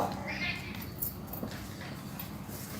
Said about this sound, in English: Excuse my kitty, she's meowing incessantly.